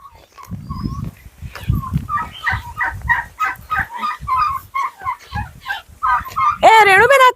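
Turkeys gobble in rapid, warbling bursts close by, repeated many times, with a louder trilling gobble near the end and other fowl calls mixed in.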